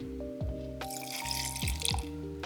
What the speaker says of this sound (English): I'm gonna add some milk,